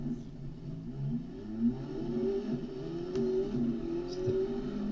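A race car on a sprint or hillclimb course accelerates through its gears, a steady engine drone that rises in pitch and is heard from inside or on board.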